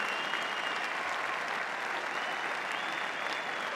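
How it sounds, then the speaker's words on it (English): An audience applauds Irish dancers at a dog show arena, a steady dense wash of clapping that holds evenly throughout with no voices over it. "applause for our Irish dancers at Celtic Feet"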